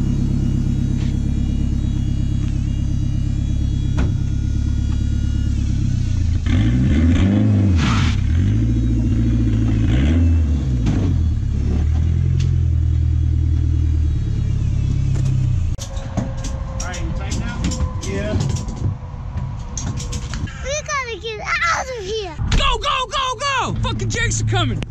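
A turbocharged Honda F20C engine in a drift truck idles and revs with a heavy, loud rumble, wavering blips and a rising rev toward the end, mixed with close talking voices.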